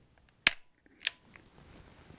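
A single sharp metallic click, then a softer second click a moment later, close and alone against near silence: a pistol dry-fired during training.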